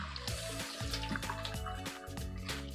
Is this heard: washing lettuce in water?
yes